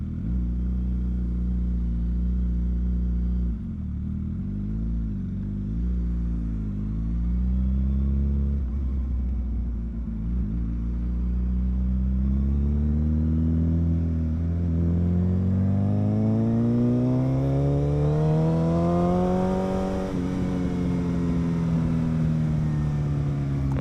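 A Suzuki Hayabusa motorcycle pulls hard through its gears, engine note climbing steadily with brief dips at each shift, close and loud with a steady rumbling undertone and no talking.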